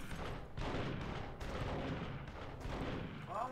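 Repeated gunfire from a weapon in Duke Nukem four-player multiplayer comes as a dense run of booming shots at fairly low level, with faint voices behind.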